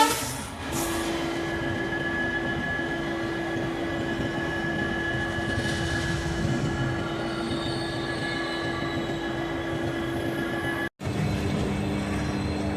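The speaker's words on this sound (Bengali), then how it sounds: "15621 আনন্দ বিহার উইকলি এক্সপ্রেসের ক্রসিং আছে" A train rumbles past with steady wheel noise and a sustained high squeal of wheels on rails, continuous and fairly loud throughout, with a brief dropout near the end.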